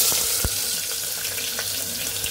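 Chopped onion dropped into four spoons of well-heated oil for chicken biryani, giving a steady, close, bright sizzle and hiss that runs the whole time with no talking.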